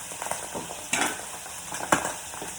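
Seabass fillets fry in a pan with a steady, close sizzle, broken by two sharp scraping stirs or spatula knocks against the pan.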